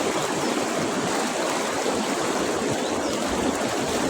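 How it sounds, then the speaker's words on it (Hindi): Steady, dense rush of a forest waterfall in Gir, a continuous broadband roar with no pauses, fairly close and loud throughout. "जो आ झरना शुरू थी गया"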